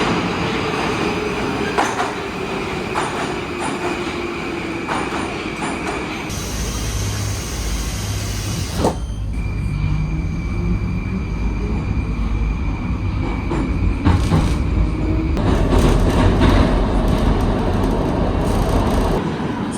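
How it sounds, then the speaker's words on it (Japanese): A Moscow metro train on the underground circle line rumbles steadily throughout, with rail clatter and a brief high whine of wheels or brakes partway through. "それで今こちらがモスクワの地下鉄、メトロの環状線ですね"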